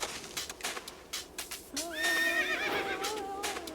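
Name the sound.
horses neighing and hooves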